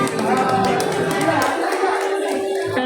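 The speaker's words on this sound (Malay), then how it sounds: "berikan tepukan buat adik Ahmad Abid Hamzah bin Ahmad Karuzi" An audience at an academic excellence appreciation ceremony applauds a young student receiving an award, steady close clapping from a crowd throughout, with room murmur beneath.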